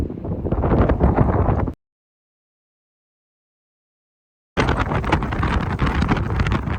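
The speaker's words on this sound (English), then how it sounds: "The wind is as it is today." Strong wind buffeting the microphone on a coastal cliff path of the South West Coast Path, loud roaring gusts that drop to total silence for nearly three seconds before the roar returns.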